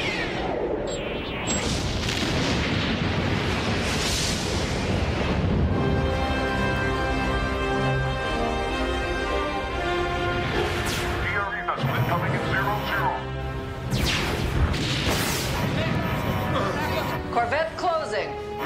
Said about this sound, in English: Firing missile.